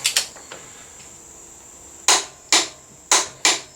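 A torque wrench set to 65 foot-pounds on a Honda CRF250L rear axle gives a few faint clicks, then four sharp, close, loud clicks in an even rhythm, with no voices.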